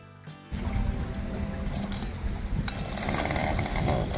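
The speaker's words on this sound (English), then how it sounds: "I'll clear some of that away with the chainsaw." A chainsaw clearing brush on an island revs up close and runs loud and steady, its buzzing engine rising and falling as it cuts.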